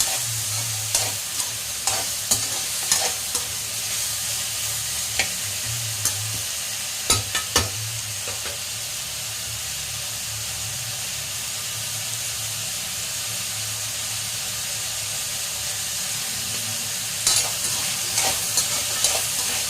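Ingredients for a spicy crab rasam with tomato and pepper sauté in a pan. A steady close sizzle runs throughout, with scattered scraping clicks from a spatula stirring, and no voices.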